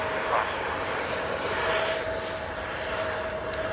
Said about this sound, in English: this next one is KLM to Amsterdam